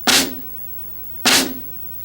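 A flam rudiment on a snare drum, sounded twice: each hit is a broad, slightly smeared crack of two near-simultaneous stick strokes, about a second apart, clear and close with no voices.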